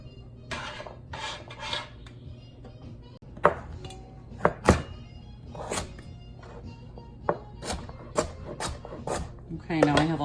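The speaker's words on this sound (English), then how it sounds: "now I have all the sweet potatoes cubed up" Knife chopping sweet potatoes into cubes on a cutting board, a run of sharp close thunks and scraping strokes, loudest in a quick cluster near the end.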